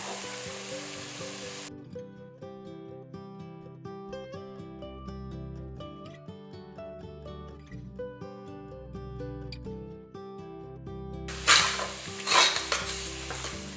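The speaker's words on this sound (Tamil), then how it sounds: "இதையும் சேர்த்து வதக்கிடுவோம்" Ground ginger, garlic and shallot paste sautés in a pan for mutton biryani, a steady broadband sizzle at the start and end, with music dominating the long middle stretch.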